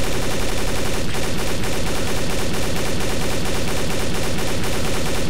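Rapid, dense gunfire in a Counter-Strike Source zombie mod match, loud and continuous with overlapping automatic bursts filling the whole stretch, no pauses and no talk.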